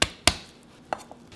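Garlic cloves minced with a knife on a cutting board while making Korean soybean paste stew, two sharp close chops followed by two lighter taps, each a crisp isolated knock.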